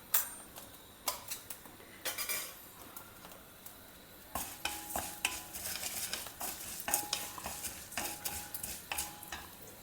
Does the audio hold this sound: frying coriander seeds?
yes